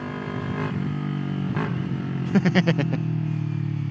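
A 2021 Kawasaki Ninja 400 engine runs nearby, idling smoothly before a quick series of sharp throttle blips rises and falls, then settles back to a steady hum.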